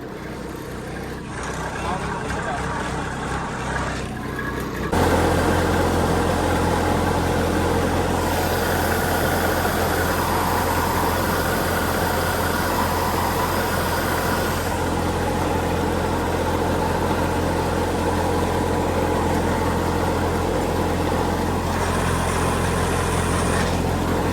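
A tractor's diesel engine runs steadily throughout, a continuous low rumble that grows louder after the first few seconds and then holds even.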